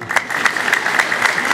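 An audience at a Christian teaching gathering breaks into a short burst of loud, dense clapping close by.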